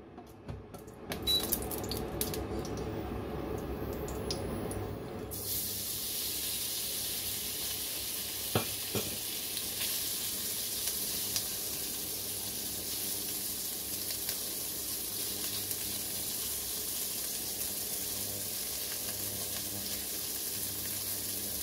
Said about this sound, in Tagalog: Hindi ko siya hinahalo kaagad para maprito yung kabila.